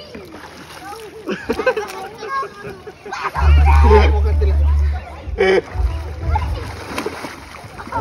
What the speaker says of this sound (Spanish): Me estoy bañando.